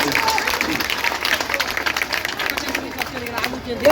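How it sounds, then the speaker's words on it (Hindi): A crowd at an NDA election campaign rally in Madhubani, Bihar claps loudly and continuously to welcome two political leaders, dense steady applause mixed with crowd noise and babble. "दुनू नेता के एक जोरदार ताली से स्वागत करियो"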